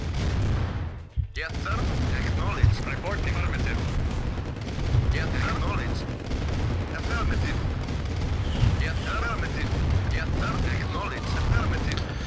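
Explosions and mechanical battle noise in Command & Conquer: Red Dust, a Soviet mission, with a sharp blast followed by ongoing rumbling, clanking units and scattered booms, while someone talks over it.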